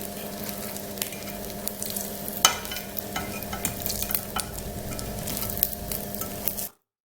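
Maakouda patties made with tuna fry in a small amount of hot oil, a steady close sizzle with scattered pops and stirring scrapes that stops abruptly near the end.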